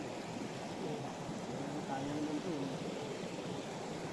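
A river flowing as a steady broadband rush of water, moderately distant and even in level, with a faint voice briefly audible over it.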